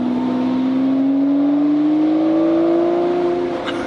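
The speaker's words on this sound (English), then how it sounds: "if I lower the window, you can hear the engine reverberating off the trees" A Lamborghini engine revs with a rising, steady drone heard through an open car window, its sound reverberating off roadside trees, loud and continuous with a climbing pitch.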